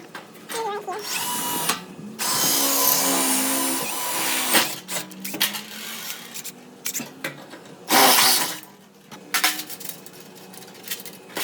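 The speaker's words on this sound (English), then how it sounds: "What I'm gonna do now is drill it." A power drill bores into the metal body of a 1923 Model T in several short bursts of loud whirring and grinding, separated by pauses, with some scraping and a voice in between.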